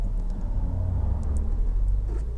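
Passing cars go by on a quiet road, a steady low engine rumble holding close and loud for a couple of seconds with no talk over it.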